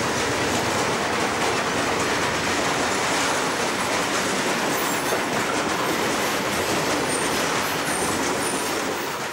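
BlueTiger class 250 diesel locomotive in Germany rolling along the track, a loud dense roar of engine and wheels with steady rail clatter, close and continuous without voices.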